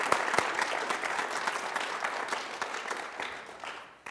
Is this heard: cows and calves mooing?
no